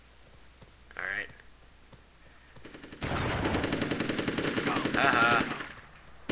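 Rapid machine gun bursts in the Army Men: Sarge's Heroes video game, with a long sustained rattle of fire after a short early burst, close and loud, while a man laughs briefly.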